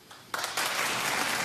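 Studio audience applause erupts after a quiet moment, a sudden wall of clapping that continues steadily to the end.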